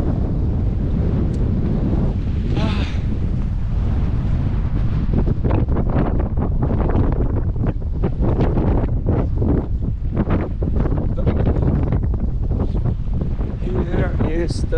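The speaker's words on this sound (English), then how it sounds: "Do you love the wind of the beach?" Strong wind buffets the microphone at Maesato beach on Ishigaki, Okinawa, a loud continuous roar with gusty rumbling and surf in the background, while a person talks over it.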